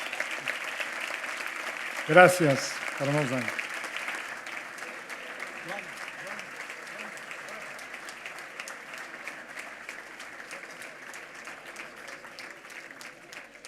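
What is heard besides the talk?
audience applause for the kitchen team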